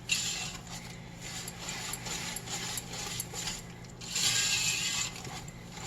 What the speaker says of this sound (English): So you wanna just whisk it all in.